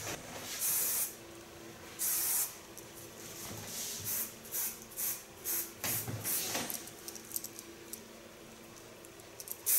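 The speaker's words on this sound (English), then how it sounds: "Now I only need a bit hairspray," Hairspray being sprayed onto freshly blow-dried ultra short hair at a salon, in a string of short hissing bursts of varying length, close and fairly soft.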